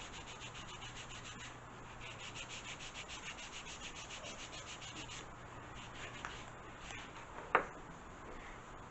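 Steady, rhythmic scratching of sandpaper rubbed back and forth on wood, close and fairly quiet, ending with a light knock.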